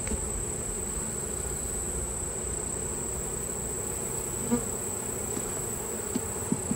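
Honey bees buzzing around hive frames during bulk feeding, a close, steady droning hum with a few faint knocks, and no talk.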